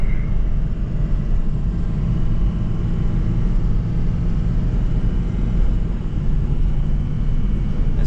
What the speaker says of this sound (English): We're towing with the 6-liter.